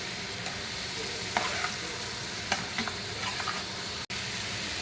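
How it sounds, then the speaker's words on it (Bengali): Mushrooms sautéing with coriander and cumin powder, a low steady sizzle with occasional light scrapes and taps as the pan is stirred, fairly quiet throughout. "এবার শুধু কষাবো।"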